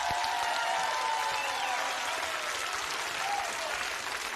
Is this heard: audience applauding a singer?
yes